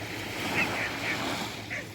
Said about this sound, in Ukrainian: І хочу подарувати вам бризки нашого моря, нашого українського Чорного моря.